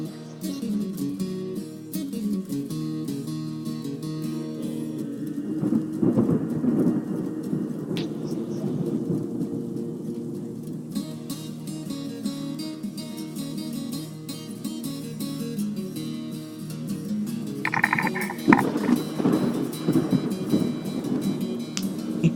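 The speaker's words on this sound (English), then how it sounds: "He got tired of the rain." Rain and thunder from the Dwarf Fortress video game: a steady, dense hiss of rainfall with low rumbling swells of thunder, continuous and loud throughout, with no talking.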